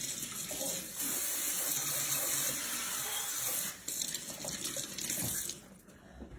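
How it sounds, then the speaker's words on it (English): Water runs from a kitchen sink tap while hands are washed during meatloaf casserole preparation: a steady close hiss of flowing water, briefly interrupted by splashing changes, then shut off near the end. "I will wash my hands again."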